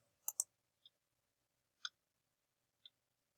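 Computer mouse clicks, a quick double click followed by three single sharp clicks spaced about a second apart, close and quiet over near silence.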